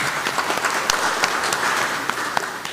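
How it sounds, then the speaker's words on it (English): Audience applause at a general assembly, a dense crackle of many hands clapping steadily at moderate volume for the whole stretch. "Give them a round of applause"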